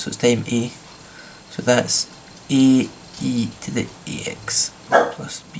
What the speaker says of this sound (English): that's my dog reacting to someone opening a door about 4 blocks away.